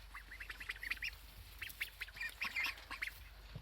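Soft, high peeping quacks from several ducklings chatter in quick bursts, faint and fairly close, with a low background hum.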